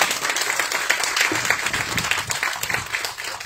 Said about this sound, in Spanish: un aplauso por la vida,